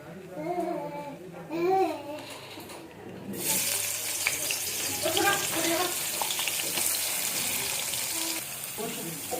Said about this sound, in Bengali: এখন আমরা এই পেঁয়াজগুলো যেগুলো আছে পেঁয়াজগুলো এখানে কড়াইতে দিয়ে দিব